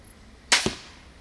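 A single sharp release of an EK Archery Vlad crossbow shot, a loud snapping crack followed a beat later by a lower thud, heard alone and fairly close.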